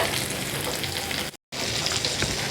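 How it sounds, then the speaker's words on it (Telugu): Brinjals fry in hot oil with a dense, even sizzle, briefly cut by a moment of silence before the crackling resumes at the same level. "దింపేసిన తర్వాత దీంట్లో వంకాయలు అవి వేయించేసుకుందాం నూనె వేసుకొని"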